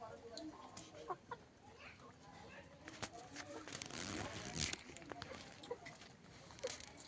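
Backyard hens peck at wheat grain, clucking and chattering steadily at close range, with a person talking over them.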